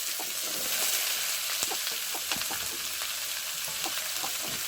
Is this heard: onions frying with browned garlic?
yes